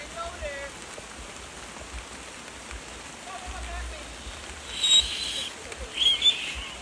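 Steady rain falls on land being cleared in St Mary, a constant soft hiss throughout, with faint bird chirps and a few brief louder patters near the end.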